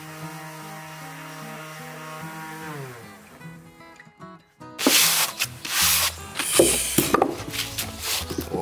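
Salvaged wood from an abandoned building is shaved down by hand, a low humming tone fading out before loud, coarse rasping strokes start midway and continue in rough bursts, close and alone.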